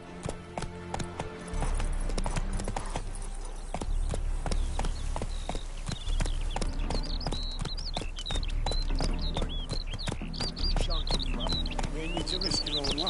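A horse ridden in The Witcher 3 clip-clops at an even walking pace, its hooves close and rhythmic under music and occasional bird-like tones, with a voice at the start.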